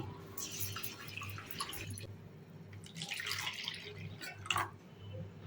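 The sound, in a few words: washing urad dal in water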